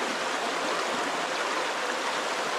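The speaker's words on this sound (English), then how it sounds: "Gravity pulls the water through the filter, fills up my jug." Creek water runs through a gravity filter into a jug at a snowy winter campsite, making a steady, unbroken rushing and trickling wash that stays even and fairly close throughout, with no voices.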